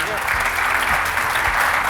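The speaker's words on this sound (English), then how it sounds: "Let's give them a round of applause here." Applause from an audience thanking a panel of customers at a business panel discussion, a dense steady wash of clapping lasting under two seconds, with some voices mixed in.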